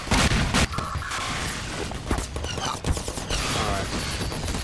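Gunfire and explosions in the video game Half-Life 2, loud and continuous, with heavy booms at the start and overlapping shots and effects throughout.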